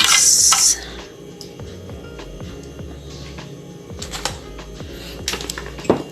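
Gelatin dessert ingredients being mixed in a kitchen bowl, with a clattering, tapping run of utensil knocks and scrapes. A brief hiss opens it, and quieter irregular clicks follow, close by and with no talking.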